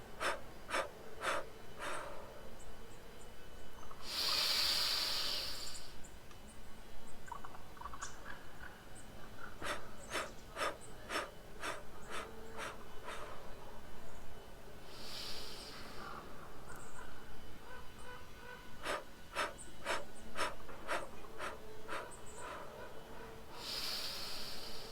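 Breathing-exercise exhales, a few slow airy rushes of breath drawn out over a couple of seconds each, spaced well apart amid faint clicks and a quiet room, with no talking.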